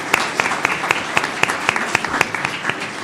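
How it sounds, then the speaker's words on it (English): A round of applause at a school district governing board meeting: a modest crowd clapping, with individual sharp claps standing out irregularly over a softer bed of hands, fairly close and steady throughout. "Let's give them a round of applause."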